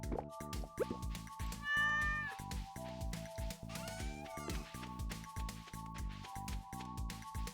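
A cat in a video game meows twice, short rising calls that sit over steady looping game music with a plodding rhythmic beat.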